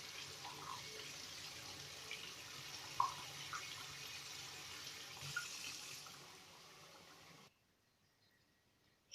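Water running from a tap over a lump of alum, a steady faint splashing stream for about seven seconds that then stops abruptly, leaving near silence.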